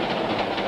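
A cartoon train jolts on its rails in a short burst of loud, dense rattling rumble that fills the whole moment without a break.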